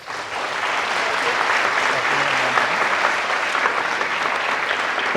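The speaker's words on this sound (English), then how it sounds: "let us warmly welcome Professor Haldane on stage with a big round of applause" Sustained audience applause welcoming a professor onto the stage for a public lecture, a dense, even roar of many hands clapping from a large hall, steady from start to finish, with a brief voice faintly underneath.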